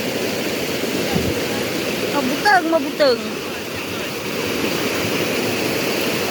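Heavy rushing water of Mapita Falls pours steadily close by, a broad continuous roar that runs the whole time, with a person speaking briefly over it.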